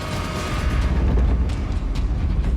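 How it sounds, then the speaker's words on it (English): A deep rumbling boom effect for pressure rising on an island game show set rolls on continuously, low and heavy, with a dull mechanical drone layered above, loud and close without talking. "That is the sound of pressure being raised."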